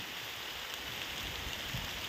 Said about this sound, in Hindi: बारिश भी होने लगी